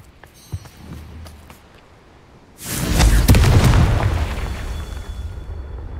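Confringo spell blast in Hogwarts Legacy: a few faint clicks and thumps give way to a heavy, booming explosion that erupts loudly and rumbles on for several seconds.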